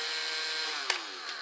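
An old National cordless drill being fed through a battery protection circuit whines steadily at close range, its motor note dipping with a sharp click partway through as it stutters under the current limit.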